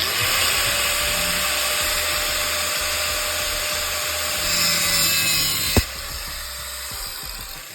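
A high-pitched cutting wheel grinds steadily into a steel wheel stud on a Challenger, a continuous whining hiss with a sharp click near the end before it eases off.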